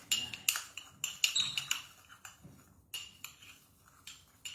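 A utensil scrapes and clinks against a bowl while tuna salad ingredients are mixed, with quick irregular taps and scrapes close by and no talking.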